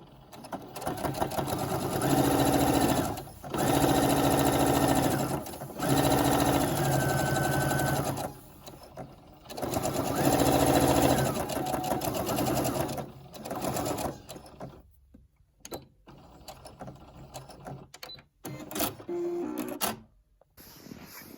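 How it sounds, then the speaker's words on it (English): A sewing machine fitted with an edge-stitching foot stitches in steady, rapid bursts, running for several seconds at a time with short pauses, then slowing to brief stop-start stitches. "This is one of my favorite feet on my sewing machine."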